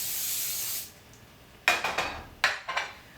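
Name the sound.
spraying coconut oil spray into a pan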